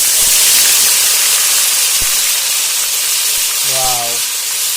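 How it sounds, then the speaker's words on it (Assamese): Loud, continuous sizzling hiss of raw onion paste hitting hot spiced masala in a pan while cooking chicken curry, steady throughout with a brief voice near the end. "আমি এতিয়া কেঁচা পিঁয়াজৰ পেষ্টটো দিম ইয়াতে"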